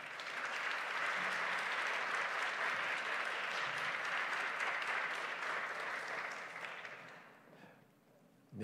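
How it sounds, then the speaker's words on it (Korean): Steady, dense applause from a church congregation welcoming a pastor to the front during a Sunday youth service, holding evenly for several seconds before fading out. "김은용 목사님 나오실 때 동안의 박수로 환영하겠습니다."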